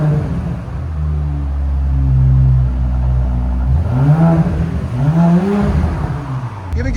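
An Audi S7 with a 2.9L twin turbo V6 and straight pipes idles low, then revs twice in quick rising-and-falling swells, close and loud.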